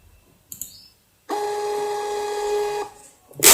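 A 58mm thermal receipt printer runs a steady mechanical whir with a tonal hum for about one and a half seconds. Brief clicks come before it, and a burst of noise follows.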